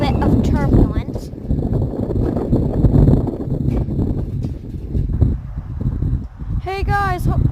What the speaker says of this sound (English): Because it's really windy and I'm afraid we might have a little bit of turbulence.